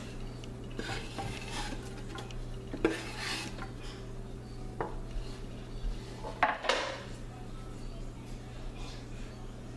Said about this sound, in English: Following the clarified butter, I'm gonna immediately add the garlic. And what this is gonna do is we're gonna saute the garlic for about a minute.